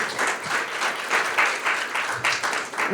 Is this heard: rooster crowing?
no